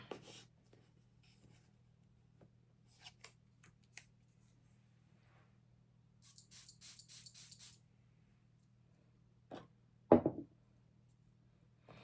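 Soft scratching and light handling noises, then a quick, close perfume spritz burst near the end in an otherwise quiet room.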